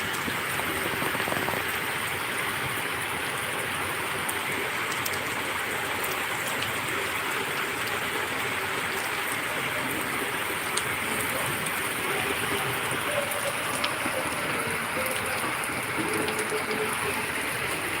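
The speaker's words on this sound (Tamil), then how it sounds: "அதுக்கெல்லாம் மழை வந்தாச்சு." Rain falls in a steady, moderate wash, a continuous hiss of drops with occasional sharper ticks, even and unbroken from start to finish.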